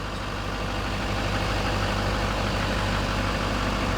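A 2016 Chevy Silverado 2500 4x4 crew cab with a Duramax 6.6 liter V8 turbo diesel idles close up, a steady low rumble with an even clatter throughout and no voices.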